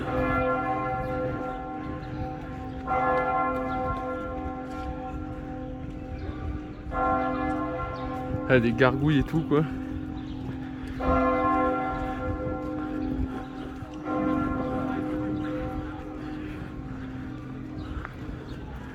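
Large church bells in Paris toll in slow, resonant strikes, each ringing out long before the next; a person briefly speaks partway through.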